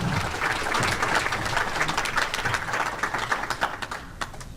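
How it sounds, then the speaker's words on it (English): An audience applauds after a housing presentation, a dense run of many hands clapping that holds steady, then thins into scattered, sharper claps near the end. "let's give another round of applause to Michaela"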